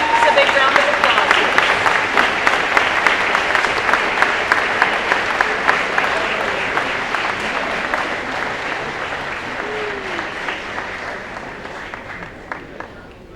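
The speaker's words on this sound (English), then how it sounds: "if we could give all of those students a big round of applause" A school audience gives award-winning students a sustained round of applause, dense clapping that begins loud and fades gradually over about thirteen seconds, with sharper individual claps punctuating the crowd.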